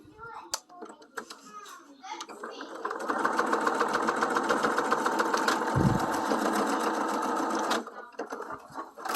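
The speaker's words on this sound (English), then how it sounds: "And then I sew." Sewing machine stitching a tag into bloomers, a steady close mechanical whir lasting about five seconds between bursts of background voices and handling noises.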